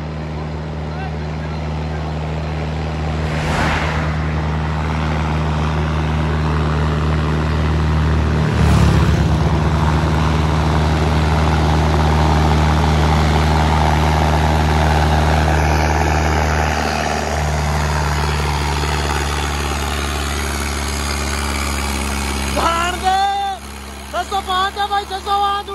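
A Mahindra Arjun 605 DI tractor hauls a fully loaded trolley, its engine a loud, close, steady low drone throughout, with someone speaking over it at times.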